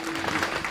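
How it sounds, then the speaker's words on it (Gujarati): Audience applause at a felicitation ceremony held by a cow shelter, a brief dense burst of many hands clapping together, steady and fairly close throughout. "ખૂબ બધી તાળીઓથી એમના માતા પિતાને પણ વધાવો"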